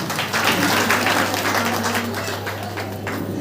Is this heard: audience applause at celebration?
yes